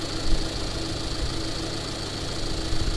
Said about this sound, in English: The engine does wobble a little bit.